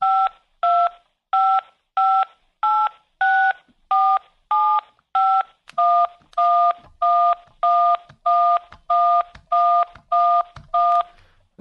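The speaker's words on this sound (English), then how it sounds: "Could you please enter it into the phone using your digits?" A telephone keypad beeps out about eighteen DTMF tones while digits are entered, short clear pulses in a steady, even rhythm, close and alone.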